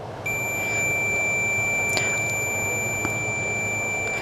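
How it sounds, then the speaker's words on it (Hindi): A multimeter's continuity buzzer gives a steady, high-pitched electronic beep that holds unbroken while the test leads touch together, loud and close. "आपको सुनाई दे रहा होगा कि इस मल्टीमीटर से बीप का साउंड आ रहा है।"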